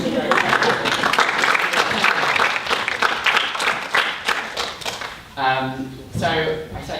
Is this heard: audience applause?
yes